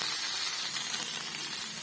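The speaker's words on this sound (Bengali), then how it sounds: "কিছুটা পরিমাণে সবিন আর আলু এর মধ্যে দিয়ে দিয়েছি। এবার এটাকে একটু ভেজে নেব।" Soybean chunks and potatoes frying in oil in a wok, a steady, close, bright sizzle with no talking.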